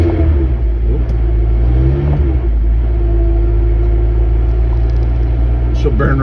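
A 1997 Jeep Wrangler's engine runs at around 2,000 RPM in low gear while crawling at about 5 mph, a loud steady low rumble with a slight rise in pitch partway through and a voice speaking over it.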